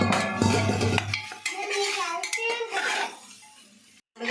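A utensil scrapes and clanks against a pan as mutton legs are stirred while frying, with several metallic knocks early on. Voices talk over the stirring.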